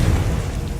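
Confringo fire blast spell in the PC game Hogwarts Legacy, a short dense burst of low booming noise that stays loud and steady through its brief length, with no talking.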